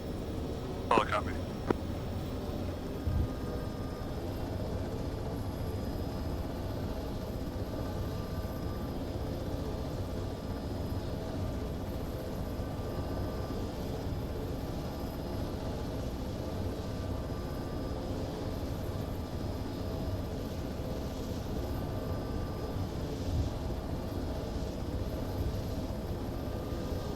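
A military helicopter flies overhead during a field training exercise, a continuous droning rotor and engine hum holding steady throughout, with radio-style talk heard over it.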